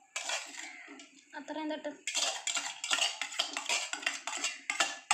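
Lay's chips and snack ingredients being mixed in a bowl, giving close crunchy rustling and clinking of a spoon against the bowl in irregular bursts, with a voice speaking briefly.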